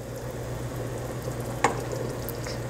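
Pretzel dough being gently stirred in a pot of hot bubbling water, a steady close simmering hiss with one brief clink of the utensil, no voices.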